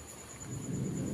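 Heavy summer rain pours down in a thunderstorm, a dense, steady wash of noise that swells slightly louder toward the end, with a low rumbling edge and no voices.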